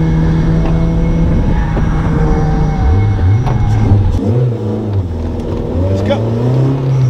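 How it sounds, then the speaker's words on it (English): Lotus sports cars roar past on a track one after another, engines revving and rising in pitch, while a person talks nearby. "Okay, the Lotus guys are driving by."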